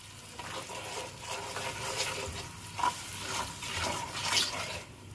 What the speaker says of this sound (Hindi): इसको फ्राई करेंगे, इसके साथ ही साथ हम सॉल्ट, कड़ी पत्ता, सारे जितने भी स्पाइस हैं हम साथ डाल देंगे